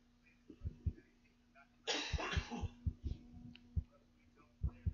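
A single harsh cough bursts out close to the microphone, surrounded by quiet thumps and faint background murmuring.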